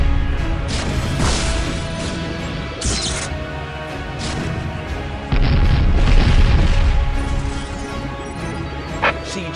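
Heavy explosions, crashes and booming cannon fire from a Warhammer 40k Dawn of War battle, loud impacts tumbling one after another with a big sustained blast midway, alongside clanking battlefield noise.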